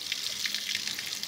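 Water drains and trickles out of the live well of a 1998 fishing boat, a close, soft, continuous splashing gurgle with no voices over it.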